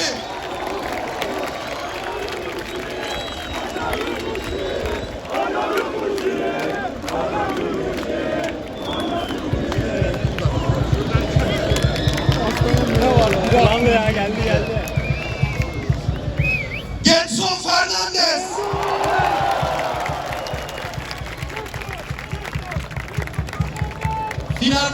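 A large stadium crowd at a Beşiktaş Turkish Cup championship celebration cheers and applauds a football player, a dense, sustained roar with clapping throughout, a brief dip partway, and a voice shouting over the noise.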